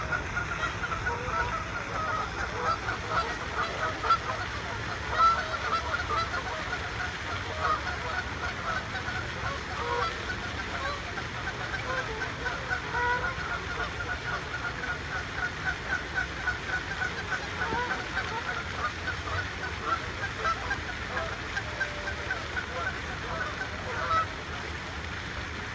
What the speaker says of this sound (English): I wanted you to just hear the sounds of the lake and the geese.